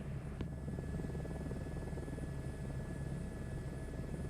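A helicopter engine in Microsoft Flight Simulator 2024 drones steadily with a constant turbine whine and rotor hum, even and unbroken, with no talk over it.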